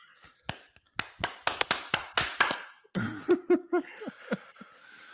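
Sharp single hand claps, close and dry, repeated in an irregular series of about eight hits, followed by a few softer taps and brief voices.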